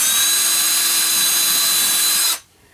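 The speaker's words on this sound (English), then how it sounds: "And I'm drilling into yellow pine." A power drill with a 3/32 bit drilling into yellow pine whines loudly and steadily at close range for a couple of seconds, then abruptly stops.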